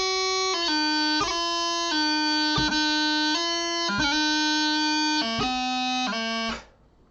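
Closing two bars of the tune The Golden Wedding in Madeira, played solo as a steady stream of sustained, bright, reedy notes with quick grace-note breaks between them. The run lasts about seven seconds at an even level, then stops cleanly.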